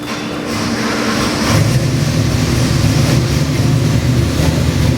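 A 427 cubic inch multi-port fuel injected crate engine built on a 351 Windsor block runs with a loud, steady rumble that swells in intensity partway through and then holds at a high, droning level.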